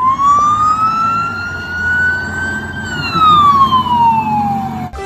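A toy traffic police car siren wailing close and loud, a single tone rising slowly, holding, then falling away before a sudden stop.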